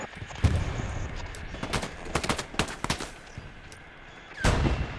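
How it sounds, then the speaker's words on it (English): Grenade blasts in the World War II shooter Hell Let Loose during a competitive match: a heavy boom near the start and another near the end, with sharp rifle and machine-gun shots crackling between them. "Oh, the grenade!"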